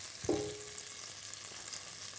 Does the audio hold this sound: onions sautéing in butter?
yes